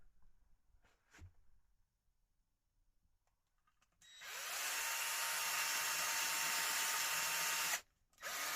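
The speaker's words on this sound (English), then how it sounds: "get our our drill with an 8mm drill bit in there, and then we're going to just drill these out slowly" A power drill with an 8mm bit whirs loudly and steadily for several seconds, slowly drilling holes in a speaker cabinet, then cuts off briefly and restarts, after a quiet stretch with a few faint knocks.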